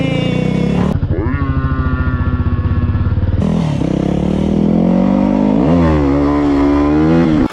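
Motorcycle engine roaring loudly and close, revving and shifting through gears at high speed, with a steady throaty drone that rises in pitch near the end.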